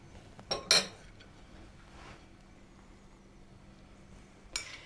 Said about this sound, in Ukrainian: І перемішуємо морку з часничком. Додаємо соус, гарно вимішуємо.